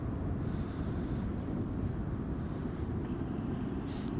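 A Malta-bound airliner passes near an airport, a steady low broadband roar that holds constant throughout with no voices.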